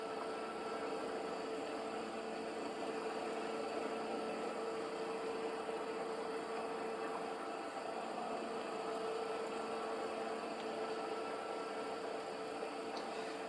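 Steady, even drone of a 1970s farm mower engine running while mowing a farm yard, continuous and moderately distant with no voices.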